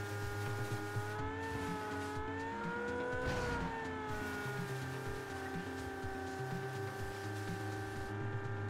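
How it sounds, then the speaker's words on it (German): A Lamborghini engine in PUBG drones and revs with shifting harmonic whines, gear changes rising and falling, a brief tire scuff in the middle, steady and fairly loud. "Hört sich interessant an, das Auto."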